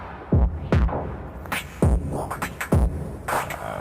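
A throbbing synth pulses in low, punchy hits with a gritty, crunchy edge, its tail smeared by a wash of reverb.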